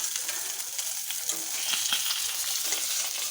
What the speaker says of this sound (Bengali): মাছগুলো লাল লাল করে ভাজা হয়ে গেছে